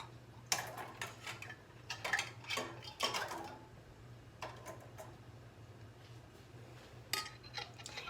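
Metal canning lids set one after another onto glass jars of green beans, a series of sharp clinks and clatters in small clusters over a low steady hum, close and moderately loud.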